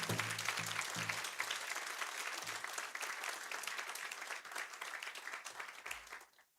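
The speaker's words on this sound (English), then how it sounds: "I want to give them a big thank you and a big round of applause" A tent full of people at the grand opening ceremony of the Louis LaRose Memorial Building applauds the opening ceremony task force with sustained, dense clapping that fades out near the end, and a voice briefly heard at the start.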